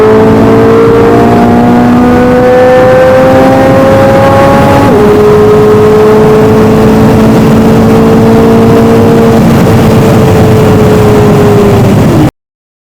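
A car fitted with a new aftermarket exhaust revs loudly up close, engine pitch climbing in long sustained pulls with a sudden drop midway, then rising again before cutting off.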